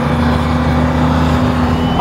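An S7 twin-turbo car of 750 horsepower driving on desert sand, a loud steady engine drone that fills the clip, while a person talks over it.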